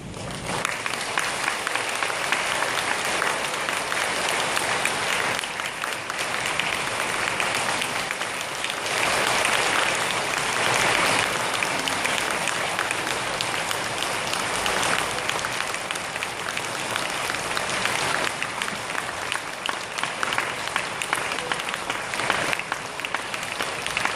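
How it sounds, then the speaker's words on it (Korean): Steady, sustained applause from a congregation at a church service commissioning a missionary to Myanmar, filling the room evenly for the whole stretch with no break. "네, 박수"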